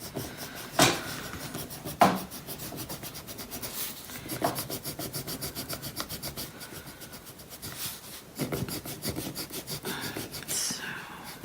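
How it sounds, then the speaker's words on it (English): An eraser rubs out letters in a puzzle book in short, soft scratchy strokes, close up and repeated steadily, with a few sharper scrapes and no talk. "I'm just gonna rub out the letters"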